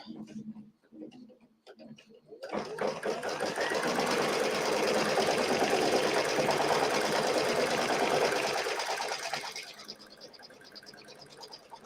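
A sewing machine stitches out a design in one sustained run lasting several seconds, steady and fairly close. Faint clicks and handling noise come before and after it.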